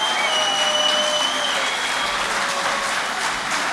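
Steady audience applause fills a poetry mushaira at an international gathering, dense and continuous from start to finish with a high whistle threading through it, and no one talking over it.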